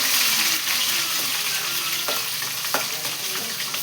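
Curry leaves sizzle in hot oil for a Telugu eggplant fry, a loud continuous crackle with scattered sharp pops and scraping stirs close by, and no voices.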